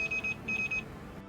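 CAM4 level 3 token tip notification, two quick bursts of rapid high electronic beeps, each a triple chirp, fairly loud over low background noise.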